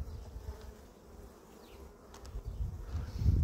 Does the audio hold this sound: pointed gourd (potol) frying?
no